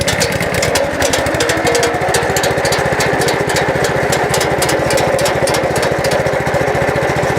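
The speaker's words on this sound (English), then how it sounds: "you're gonna start the engine." An EZ Trench lawn saw's engine runs at a steady, loud, close idle: a fast rhythmic small-engine putter with a buzzing mechanical rattle that stays even for the whole stretch, with no voices.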